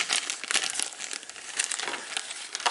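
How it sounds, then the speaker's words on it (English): A plastic Ziploc bag being opened by hand, close crinkling and rustling with short sharp crackles, irregular and fairly quiet. "Let me open this Ziploc bag."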